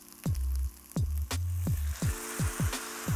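Stock ladled a bit at a time into a hot risotto pan, each pour bursting into a loud sizzle that fades, repeating in quick succession up close.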